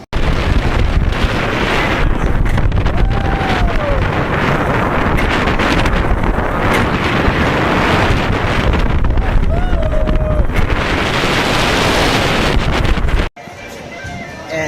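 Heavy wind roar buffets the microphone nonstop on the Iron Gwazi roller coaster at Busch Gardens, loud and steady for about thirteen seconds before cutting abruptly to a quieter background.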